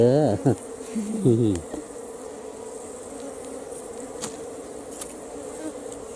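Ground bees buzzing close by as their underground nest is dug out for honey, a steady insect drone with a few louder passing buzzes, opening with a brief burst of rising tonal noise.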